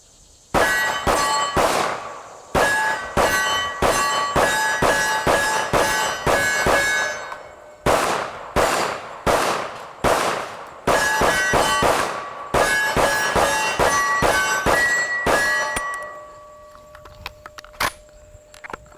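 Rapid strings of sharp gunshots from a KRISS Vector Gen II SDP pistol in FDE firing .45 ACP, loud and close, in bursts separated by brief pauses, ending with a few scattered clinks.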